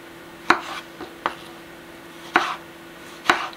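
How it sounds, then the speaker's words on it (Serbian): Peeled tomatoes being chopped with a knife on a board for a summer paprikaš: four crisp, uneven knife strikes, close and fairly loud, with short quiet gaps between them and no talking. "Uljušteni paradajz, zatim seckamo."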